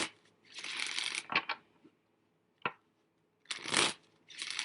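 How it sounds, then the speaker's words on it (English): A tarot card deck being shuffled in bursts of riffling card noise, several close, crisp flurries separated by short pauses and a couple of sharp taps, with no talking. "it just slid out the deck as I'm shuffling"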